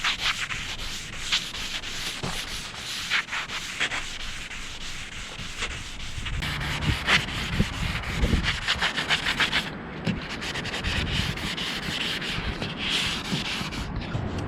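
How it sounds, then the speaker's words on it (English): Abrasive pads scuffing the smooth metal deck of a Grand Design Momentum RV, a steady close rasping rub in uneven strokes with brief pauses, the rhythm changing partway through. "abrade the surface area with abrasive pads"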